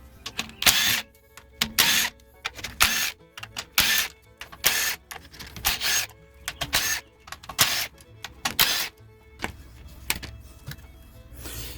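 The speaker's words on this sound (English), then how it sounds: "I'm taking off 9 bolts off this cover" An impact or power tool on a third-generation Toyota Prius removes the bolts from the HV inverter cover, making a series of sharp, loud bursts of rattling whirs separated by short pauses, close to the listener.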